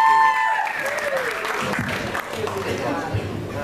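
An audience at a slam poetry event in Miskolc applauds, steady dense clapping that runs throughout at moderate loudness, with a voice speaking over it at the start.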